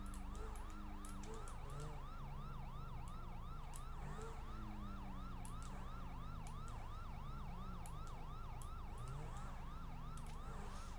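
Several emergency vehicle sirens wail continuously in a busy city during a game police chase, rising and falling wails overlapping with rumbling engines and sharp clicks throughout.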